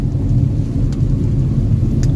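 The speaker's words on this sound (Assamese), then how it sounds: "এতিয়া আকৌ গোটেই বৰষুণ" Heavy rain drums steadily on a car during a drive, a dense continuous wash with deep low-end road and cabin rumble, loud and close, with no one speaking.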